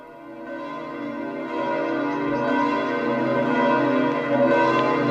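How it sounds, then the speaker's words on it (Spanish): Church bells of St. Peter's Basilica ring out over St. Peter's Square in a steady, resonant peal that swells slightly louder as it continues, with no talk over it. "el tañido de las campanas de la Basílica de San Pedro"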